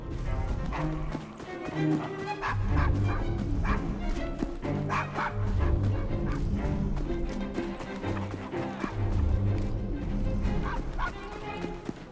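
A dog barks repeatedly in Assassin's Creed Syndicate gameplay set in Victorian London, loud and steady over a low rumbling ambience, with what may be horse hooves and voices mixed in the background.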